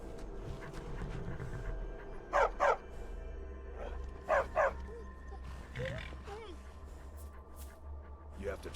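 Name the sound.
war dog barking and panting in Skyrim video game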